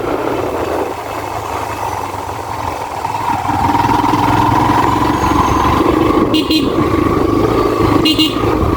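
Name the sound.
motorcycle riding in traffic with horns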